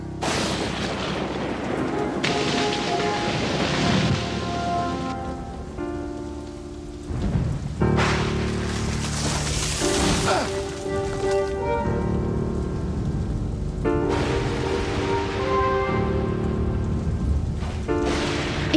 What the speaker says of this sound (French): il marcha en trébuchant sous la pluie, cherchant à trouver un refuge.